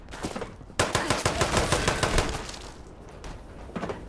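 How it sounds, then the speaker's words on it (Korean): Rapid bursts of automatic gunfire in a video game crack out in quick succession, loud and close, with a dense volley in the middle and a few scattered shots at the end. "저 앞에서 쏜다. 앞에서 쏜다. 뒤에서 쏘나?"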